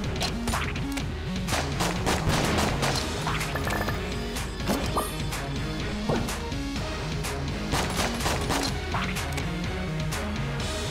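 Rapid gunfire and impact bursts from the video game Enter the Gungeon crackle continuously in dense, overlapping sharp hits, steady and fairly loud throughout.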